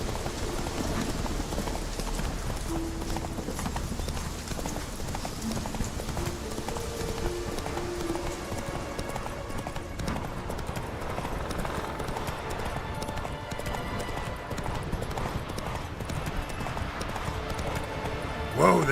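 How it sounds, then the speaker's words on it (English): Hooves of the horse Roach clip-clop steadily in a fast gallop through The Witcher 3: Wild Hunt, a continuous rhythmic pounding heard up close under dense game music and ambient sound for the whole stretch. "Whoa there, Roach."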